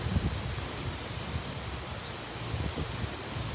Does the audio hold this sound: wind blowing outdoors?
yes